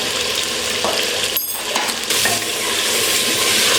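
Chicken and spices fry in a pot for a biryani, giving a steady loud sizzle with the clink and scrape of stirring; the hiss drops out briefly midway, then returns strongly.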